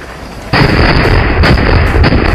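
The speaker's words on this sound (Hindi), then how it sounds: "आग लगाते हैं और फिर देखते हैं कितना बड़ा धमाका होता है" A sudden loud Diwali firecracker bomb blast bursts in, followed by a rough roaring, crackling rush with further pops.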